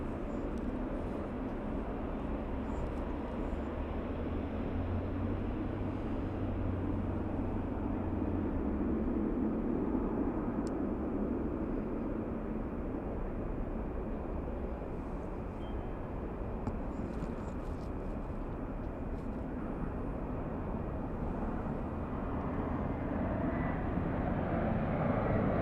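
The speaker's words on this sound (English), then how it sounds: "We have the Taiwanese 777 lining up." A Taiwanese Boeing 777 lines up on runway 24 left at Los Angeles, its jet engines giving a steady, fairly distant broadband rumble that holds evenly throughout, with no voices.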